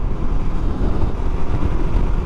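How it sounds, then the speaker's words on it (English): Heavy, continuous wind roar buffets the microphone while riding a 2021 Honda CB500X motorcycle at 60 to 65 mph, a deep rumbling rush, loud and unbroken throughout. "It's very windy out here. I don't know if you can hear that"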